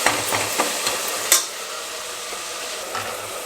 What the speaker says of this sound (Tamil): இந்த தக்காளி வந்து நல்லா மேஷ் ஆகவே மாட்டேங்குது. கொஞ்சம் உப்பு போட்டோம்னா சீக்கிரம் மேஷ் ஆகிடும்.